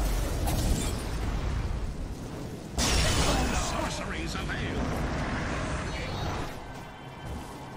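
Explosions during a tower attack in the video game Dota 2: a sudden loud crashing blast about a third of the way in over a constant dense rumble of battle noise, with voices faintly beneath.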